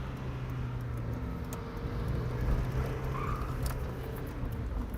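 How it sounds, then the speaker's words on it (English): A 1999 Mazda Miata with a 6-speed manual, driven hard through corners: steady engine drone and road roar heard from inside the cabin, swelling slightly midway. "I can just go around corners like crazy in this car"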